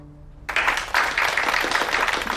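Applause breaks out at a dinner gathering, a crowd of hands clapping steadily for about two seconds after a quiet start, loud and dense.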